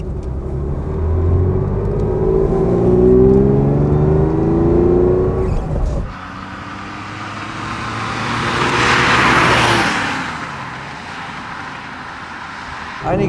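A 1966 Porsche 911 SWB in original condition revs hard on the move, its flat engine climbing through a gear, then shifting and pulling again, loud and close with rushing road and wind noise.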